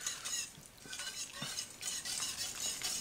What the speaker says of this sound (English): And we're just going to stir it here.